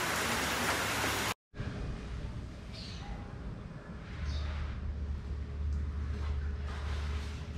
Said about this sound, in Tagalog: ang lakas ng ulan, ang sarap tuloy pakinggan ang patak ng ulan